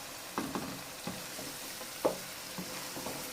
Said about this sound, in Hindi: इसको अच्छी तरह भूनते हैं।